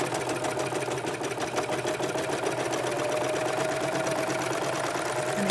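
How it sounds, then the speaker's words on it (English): A serger runs steadily while sewing two pieces of fabric together, a continuous fast mechanical whirring hum with a rapid rattling pulse, close and even throughout with no pauses. "So I want to keep the edge of the fabric along the metal of the serger, and we'll serge these two together."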